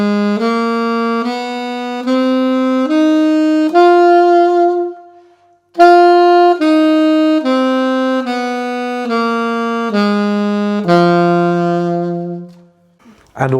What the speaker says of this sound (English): here's what it sounds like on my alto sax